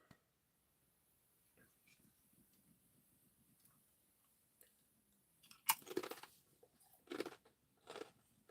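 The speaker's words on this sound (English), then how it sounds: "Sorry about the crunch, y'all. I'm starving." Someone chews crunchy food close to the microphone, with sharp, loud bites coming in a few separate bursts after a long, quiet stretch.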